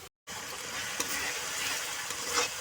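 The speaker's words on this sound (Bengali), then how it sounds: "এবার মশলাটাকে ভালো করে কষাই নিই" Spice paste with salt and turmeric frying in hot oil gives a steady, close, broadband sizzle that runs unbroken, with a brief silence at the start and a few faint clinks of stirring.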